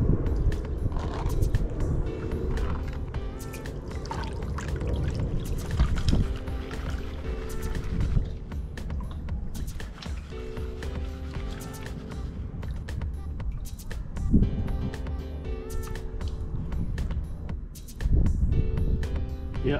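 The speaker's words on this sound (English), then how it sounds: "First thing I'm going to do is pan the tailings." Sluice box tailings being panned for gold in water, giving repeated swishing and sloshing with gritty gravel rattles in an uneven rhythm, close to the listener.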